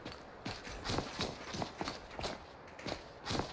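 Hooves of a wild horse clop along at a steady walking gait in Skyrim, with about a dozen evenly spaced steps sounding close and moderately loud, with no voices.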